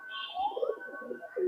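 Pakistani pigeons coo in short, soft, throaty murmurs close by, with a brief low thump partway through.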